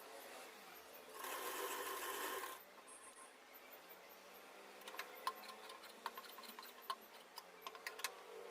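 A sewing machine stitches a blouse lining with a short burst of rapid whirring, followed by quiet, irregular ticks and clicks of the mechanism close by.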